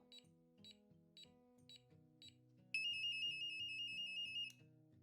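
A baby movement monitor alarm starts after a series of low repeated tones, sounding a loud, steady high-pitched electronic beep for about two seconds close by, then stopping.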